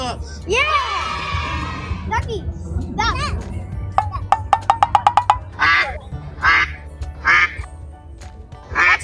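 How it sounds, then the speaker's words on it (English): Ducks quack in loud, repeated bursts, some in quick runs, while children talk and shout nearby. "Ducks."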